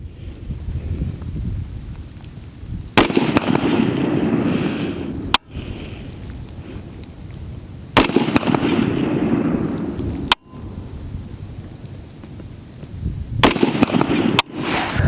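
A carbine zeroed for 200 yards fires on an outdoor target range: about five or six loud, sharp shots at irregular intervals, each with a rolling echo tail, over steady wind noise.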